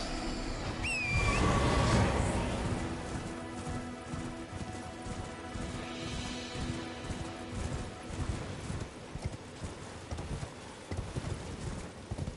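Horse hoofbeats from riding in the Elden Ring video game, a steady clip-clop rhythm running throughout over game music and ambience, loudest near the start.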